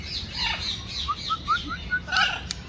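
A blue-and-yellow parrot at a zoo gives a run of short, rising squawks and chirps at a steady pace over a noisy background with other bird sounds.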